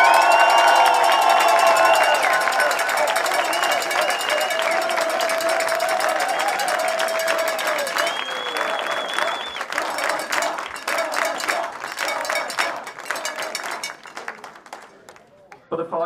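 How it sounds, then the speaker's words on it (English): An outdoor athletics crowd at the Island Games in Orkney applauds and cheers loudly for a gold medalist, a dense wave of clapping and whoops that gradually thins to scattered claps before fading. "Folks, please give him a massive Orcadian cheer."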